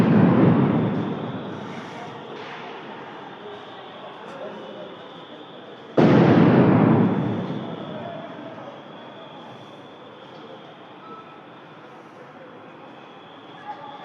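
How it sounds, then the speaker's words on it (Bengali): Two sound grenades go off amid a tense street clash, each a loud, sudden boom about six seconds apart that trails into a long, fading roar. "রীতিমতো কিন্তু সাউন্ড গ্রেনেড ছড়া হচ্ছে"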